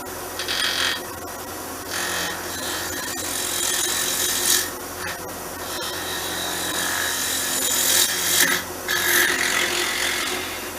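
A bowl gouge cuts a wooden pendant held in a jig on a turning lathe, producing a loud continuous rasping, scraping whir that swells and eases as the tool bites in.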